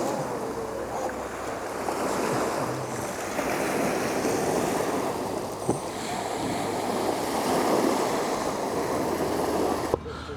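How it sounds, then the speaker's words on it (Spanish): Sea waves wash onto the shore near the Corinth Canal in Greece, a steady broadband surf roar with continuous rolling swells heard close and loud, wind buffeting the microphone, and no voices. "como podéis escuchar por el sonido del mar, pues yo estoy prácticamente a tocar la orilla"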